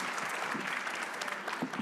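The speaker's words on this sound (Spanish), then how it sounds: "un aplauso para ellos 3" Applause from a lecture audience at a talk on the neuroscience of learning, steady and fairly close, filling the room for about two seconds with no one speaking.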